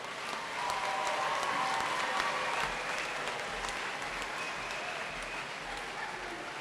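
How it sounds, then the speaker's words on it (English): Applause at a 2014 college commencement ceremony, a broad, even wash of clapping from a large crowd, heard from some distance and fairly quiet, lasting throughout. "Could we have a round of applause to congratulate?"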